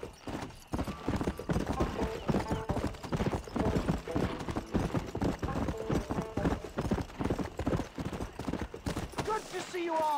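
Horse hooves clip-clop at a steady trot in the Western video game Red Dead Redemption, rhythmic, close and continuous under in-game voices talking.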